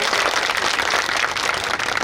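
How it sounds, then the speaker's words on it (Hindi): A crowd at a mass wedding ceremony claps to welcome a speaker, a steady, dense wash of applause at close range, with no gaps. "ऐसी बहन रंजीता कोली जी के लिए एक बार जोरदार तालियां बजाकर उनका स्वागत करें।"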